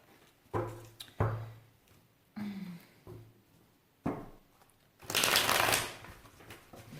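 Tarot cards being cut and shuffled in several separate bursts, each a brief riffle or slap, ending in a longer, louder shuffle at close range with no talking.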